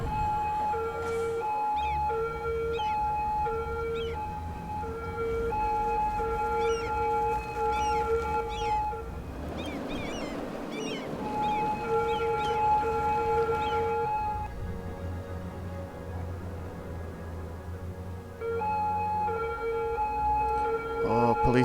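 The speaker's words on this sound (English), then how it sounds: "Oh, police sirens everywhere. Those do get a little old and annoying." Wailing police sirens in the video game Cities: Skylines rise and fall continuously over a low engine-like drone, with a burst of noisy rumble partway through.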